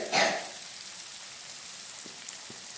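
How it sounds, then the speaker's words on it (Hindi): Masala fries in a pan for a besan curry, giving a faint, steady sizzling hiss after a brief louder stir at the start. "मसाला को एकदम लाल होने तक इसको अच्छी तरह से इसको भूनेंगे"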